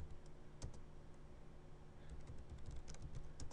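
Typing on a computer keyboard while entering network interface configuration commands, with quiet, irregular clicks of keys at a soft level over a steady background hum.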